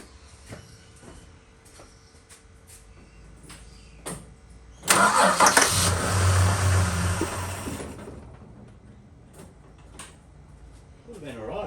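A VH Valiant Charger cranks and fires after carburettor work, catching into a loud rough run that sags and fades within a few seconds, with scattered clicks and quiet talk before and after.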